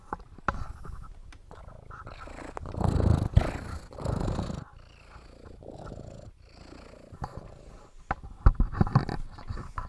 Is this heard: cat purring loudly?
yes